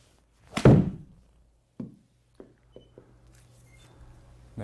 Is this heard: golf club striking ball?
yes